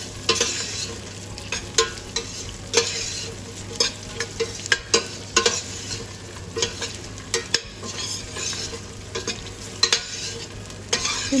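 Mixed vegetables being stirred and sautéed in a pan for a Kerala Onam sadhya dish, a steady sizzle of frying under repeated scraping stirs and light clinks, close and continuous with no talking.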